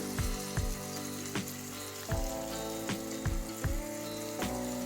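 Soft tomatoes frying in a pan for moong dal pakora curry give a steady, close sizzle and crackle, with occasional light clicks of a spoon.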